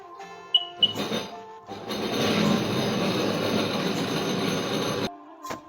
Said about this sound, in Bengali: স্কুটারটা স্টার্ট দিবেন।